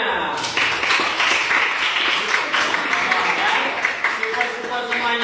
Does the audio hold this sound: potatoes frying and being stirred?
no